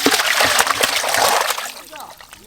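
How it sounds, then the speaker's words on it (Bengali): Live rohu and catla fish tumble from a bucket into a tub, giving a close burst of splashing and sloshing water that fades into lighter trickles, with a voice talking over it. "আমি গিয়ে গামলিতে ঢেলে দেখাচ্ছি কি লাফাচ্ছে মাছগুলো"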